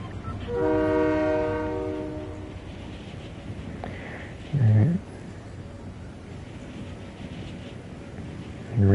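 A Fortnite train sounds a long, loud horn blast at the start, then rumbles along steadily in the background with a brief clank midway.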